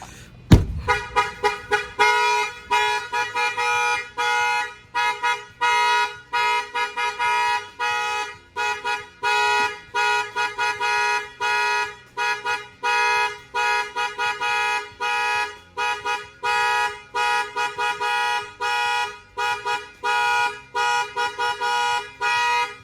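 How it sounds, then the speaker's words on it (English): Truck alarm in Miami blaring through the vehicle horn in a steady repeating pattern of loud honks, pulsing on and off for the whole stretch after a sharp knock at the start, with no talking. "I'm gonna bang on the window, and then the alarm will fire off"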